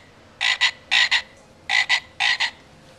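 A baby's toy frog gives four paired bursts of bright, rasping croaks, each pair quick and close together, separated by short silences.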